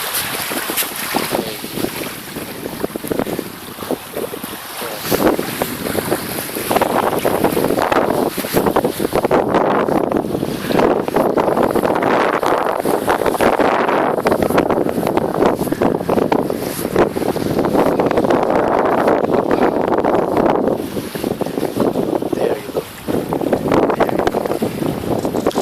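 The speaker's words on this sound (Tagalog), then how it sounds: "meron pa parating na bangka" A boat motors steadily across open water off a white-sand beach, its engine droning for the whole stretch under heavy wind buffeting the microphone, with no voices.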